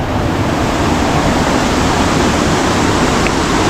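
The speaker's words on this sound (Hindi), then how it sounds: "खलखलाती पानी आ रही है उधर से" Loud, steady rush of a stream flowing over rocks fills the whole stretch, a dense broadband wash with no voices, close and continuous.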